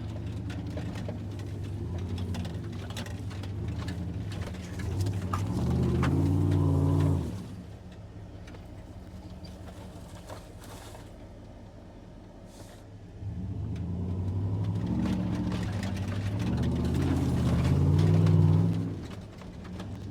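A 1999 Dodge Ram truck in two-wheel drive climbs out of a big hole off-road, its engine rumbling loud and close in two strong surges of revving, with a quieter idling stretch between them.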